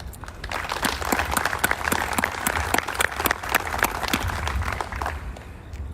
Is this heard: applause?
yes